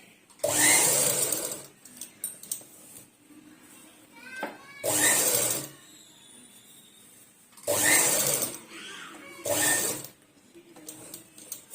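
Sewing machine stitching along the edge of a fabric frill in four short, loud bursts of rapid whirring, separated by quiet gaps where a voice talks softly.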